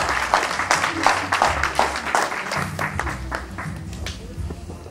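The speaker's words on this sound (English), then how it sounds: "Let's applaud them." Audience in a hall at a 50th birthday celebration applauds steadily for the whole stretch, a dense wash of many hands clapping with some voices mixed in.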